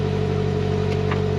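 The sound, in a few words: 2020 Polaris Slingshot R engine starting up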